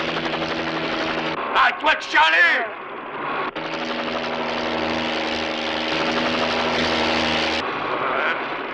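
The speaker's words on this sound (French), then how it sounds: "ces hélicoptères de la police!" Police helicopters drone overhead in a French film scene, a steady rotor hum and whine under loud shouting voices that briefly dominate.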